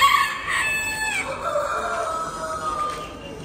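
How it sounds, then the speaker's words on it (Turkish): A Colombian chicken crows loudly at the start, followed by softer clucking and distant bird calls against an outdoor background at a poultry show. "Burada bunun Kolombiyan bir tavuğumuz var."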